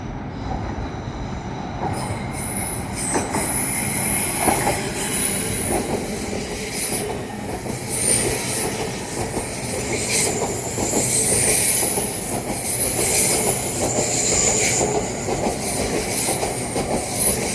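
A Class 800 train moves through Manors Station with a steady rumble, wheel squeal and faint clickety-clack rhythm across the rails. The noise stays loud and continuous throughout, with no voices.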